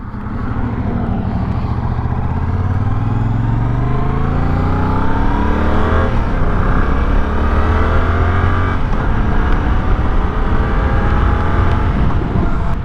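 A 2025 Yamaha R7 motorcycle engine accelerates hard on a road, loud and close, its pitch climbing steadily through the gears for the whole stretch with wind noise underneath.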